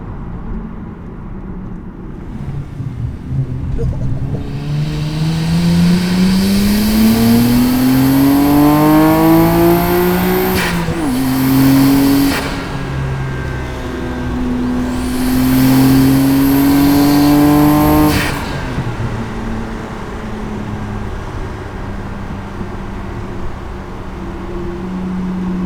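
A car engine revving hard on a country road, roaring louder as the pitch climbs through two long pulls with a sharp drop at each gearshift, close and loud, then easing back to a lower hum.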